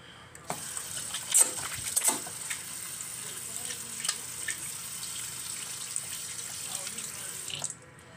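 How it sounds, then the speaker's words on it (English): Hands are washed under a running tap at a sink, a steady close stream of water with splashes and small clinks for about seven seconds before it stops, with no talk. "Now it's time to wash my hands first."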